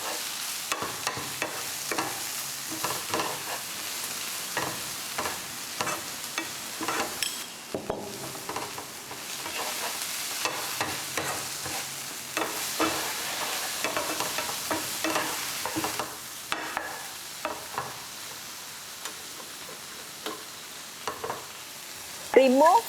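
Okra (ladies' fingers) fries in a hot pan with a continuous sizzle while being stirred, giving repeated scraping strokes throughout, close and fairly loud.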